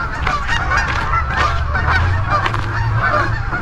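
A crowd of Canada geese at a lake honks loudly and continuously at close range, overlapping calls forming a dense, constant clamor with no voices.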